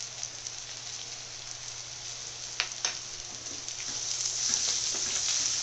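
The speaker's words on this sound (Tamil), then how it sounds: "இப்போ நான் அந்த இஞ்சி பூண்டு பேஸ்ட் ஆட் பண்ணுறேன்" Ginger garlic paste sizzles steadily in hot oil while a south Indian small-onion mutton fry is cooked, a continuous close hiss with a few brief stirring clicks that grows slightly louder toward the end.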